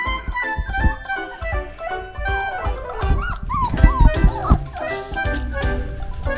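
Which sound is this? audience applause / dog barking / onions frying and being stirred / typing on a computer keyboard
dog barking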